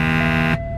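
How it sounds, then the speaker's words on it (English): A truck's lane departure warning: a loud, sustained electronic buzzing beep with a harsh tone, holding steadily for about half a second before cutting off abruptly, leaving a low hum. "When you cross over the line, it beeps just to let you know you're going over the line."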